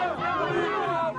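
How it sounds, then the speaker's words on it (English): A pro-Gaddafi crowd in Libya chants and shouts together in a dense, loud mass of overlapping voices, close by and without a break. "you're just surrounded within seconds by ranting crowds"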